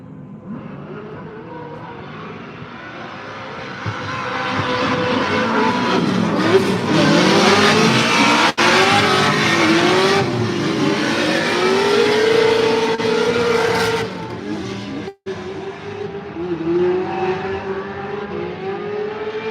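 A Formula Drift pro warm-up car at a Utah track revs hard and builds into a loud, sustained engine roar with rising and falling pitch, holding near and strong before cutting out briefly, then resuming.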